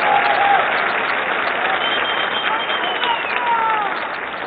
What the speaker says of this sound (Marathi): जोरदार टाळ्या आमिर खान इतक्या जोरात वाजवा की त्यांना तिकडे मुंबईला ऐकू गेल्या पाहिजे।